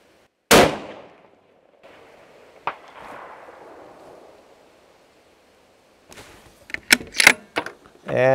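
A hunting rifle fires at a 550-yard target, one loud sharp report up close with a rolling echo, then a fainter distant impact, followed later by bolt cycling and clicking handling sounds.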